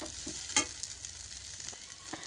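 Sabudana khichdi, a sweet fasting dish, fries in plenty of ghee while it is stirred. A faint, steady sizzle runs throughout, with a quick scrape of the spoon partway through.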